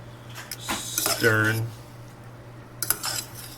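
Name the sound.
stirring Maruchan yakisoba instant noodles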